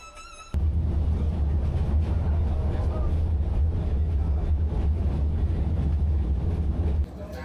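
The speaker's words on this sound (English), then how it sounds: "The rhythmic clack-clack of the iron wheels slows down." Iron train wheels rolling over rails on the Haivan Pass line, a loud steady rumble with a low drone and rattling, beginning abruptly after a short quieter stretch and easing off near the end, with no talking.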